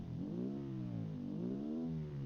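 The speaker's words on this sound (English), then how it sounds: "Already the engine sounds pretty good." A steady car engine hum in Automation/BeamNG rising and falling in pitch as it revs, smooth and continuous with a slightly synthetic, game-like tone.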